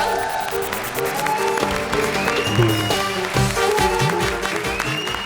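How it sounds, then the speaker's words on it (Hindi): Studio audience at a comedy show applauds loudly for a guest named Himesh, the clapping mixed with a lively music track that swells and swoops beneath it throughout. "जोरदार तालियां।"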